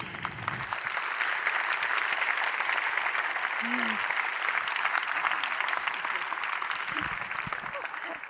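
Sustained applause from a conference audience greeting an invited climate scientist guest, a dense steady clatter of many hands lasting throughout at even loudness, with faint voices underneath.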